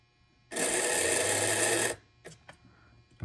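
A brass 2-8-2 model steam locomotive runs with a loud mechanical whirring for about a second and a half, then stops, followed by a few short clicks and clatters.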